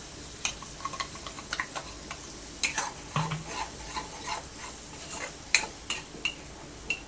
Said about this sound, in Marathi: खोबरं मिरची वगैरे पेस्ट ती घालणार आहोत आणि हे तेलामध्ये आपल्याला दोन मिनटं मिक्स करून घ्यायचे